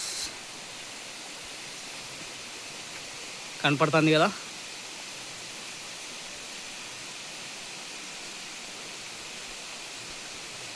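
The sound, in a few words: Palakondalu waterfall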